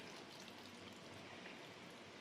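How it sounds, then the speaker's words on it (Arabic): A small glass of water is poured into a tagine pot, giving a steady, close splashing stream that lasts throughout. "هنجيب بقى كوبايه ميه صغيره كده بصوا اهي، وهضيفها في النص"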